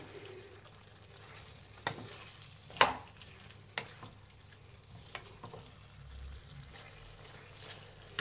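Spicy chicken masala being mixed in a pan: a soft steady frying hiss with a few sharp spoon scrapes and knocks against the pan at irregular intervals, fairly quiet and close.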